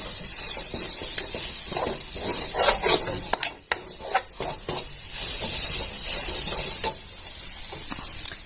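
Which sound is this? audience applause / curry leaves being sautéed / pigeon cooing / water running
curry leaves being sautéed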